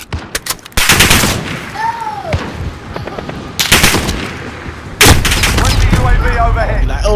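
Video game gunfire rattles in loud bursts, with sharp automatic volleys and heavier blasts clustered at the start, middle and end, under a player talking.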